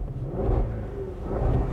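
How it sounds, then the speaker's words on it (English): A Range Rover Velar SVAutobiography Dynamic with its loud exhaust mode gives a brief, low, steady engine rumble close by, with no talk. "There's also a little button in here to make the exhaust extra loud."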